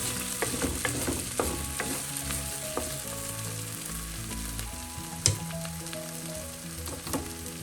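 Onions sautéing in a pan over a low flame, mixed together while cooking for a chicken curry with mint leaves: a steady close sizzle runs under repeated spatula scrapes and stirring clatter, with one sharper knock near the end.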